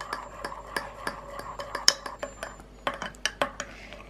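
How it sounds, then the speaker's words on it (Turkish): A metal spoon stirs instant Dr. Oetker pudding inside a glass, giving a steady series of close, sharp clinks and taps against the glass with no talking. "Hala karıştırıyorum."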